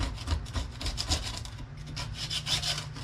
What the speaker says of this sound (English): We want to have a little access into here, so we're going to be scraping